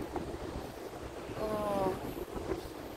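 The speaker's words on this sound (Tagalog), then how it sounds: "Guys, ang hangin sa labas." Strong wind blowing outdoors at Yehliu Geopark on the Taiwan coast, a steady broadband rush buffeting the microphone throughout, with a faint whistling tone in the middle and surf-like roar beneath.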